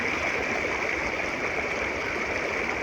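A Carpathian mountain river, full with spring water, rushes steadily, a constant loud hiss and gurgle of fast-flowing water close by, with no voices.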